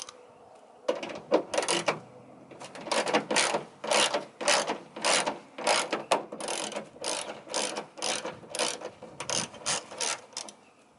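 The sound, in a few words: 10 mm wrench removing screws from Toyota Tacoma mud flaps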